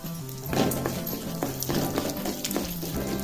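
Chana dal and urad dal dry-roasting in a pan, a steady soft crackling sizzle with light scraping stirs, close and continuous, no talking.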